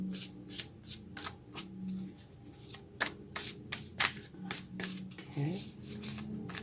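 Tarot cards being shuffled in repeated soft riffling bursts, close and quiet, with a steady low hum underneath.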